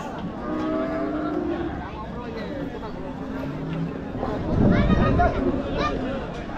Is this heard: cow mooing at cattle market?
yes